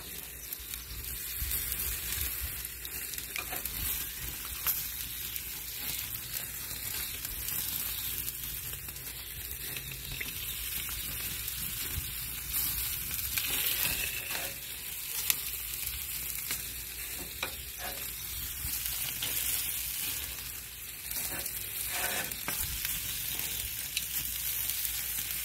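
Meat sizzles and crackles steadily over hot coals on a Royal Gourmet charcoal grill, with grease flaring up and basting sauce hitting the heat, a dense close-up hiss that continues evenly throughout.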